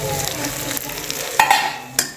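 Pulses and pounded bajra millet for khichdo are stirred in a pot, giving a close scraping and shuffling with a couple of sharp clinks of the spoon against the metal.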